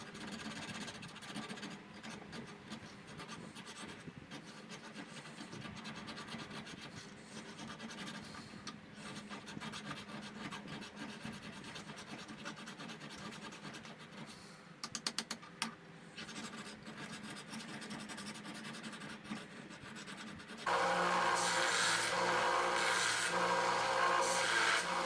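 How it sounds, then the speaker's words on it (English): A hand file rasps against the tang of a forged Damascus steel tanto blade, fitting it to the habaki; quiet, steady rubbing strokes run on, with a brief clatter midway and a louder, brighter burst near the end. "I got to do quite a bit of filing to get this in the right spot here"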